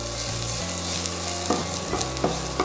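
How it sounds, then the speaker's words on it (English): Onions stir-frying in oil in a home kitchen, a steady crackling sizzle close by with a few louder scrapes and stirs near the end, no voices. "We'll stir fry the onions in the oil for until it softens."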